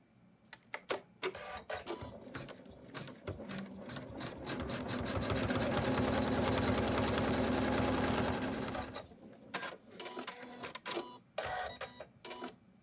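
An embroidery machine stitches a snowman outline, opening with short separate stitching bursts, then a long loud continuous run of rapid needle strokes, then more brief bursts.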